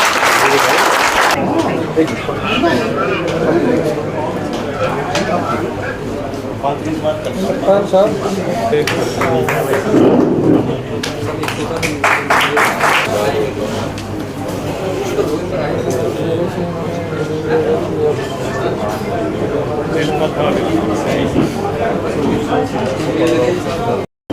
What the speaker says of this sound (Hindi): तालियों की दरकार पड़ेगी।